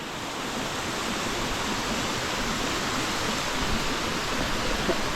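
Steady, loud rush of a waterfall pouring down, a constant broadband roar with no pauses and no voices over it.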